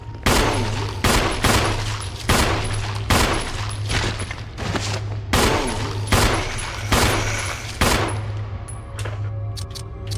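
Repeated gunshots from the Resident Evil Remaster video game, roughly a dozen loud, evenly spaced blasts over a steady low hum of game ambience, with no voices.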